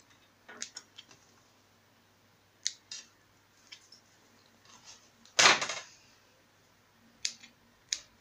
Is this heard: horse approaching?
no